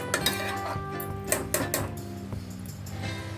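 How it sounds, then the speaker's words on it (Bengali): Soya pulao rice is stirred in a pot, with a spoon clinking and scraping against the metal in irregular bursts, close and clear, over a faint steady background hum. "এবার ভালোভাবে নাড়াচাড়া করে দেবো"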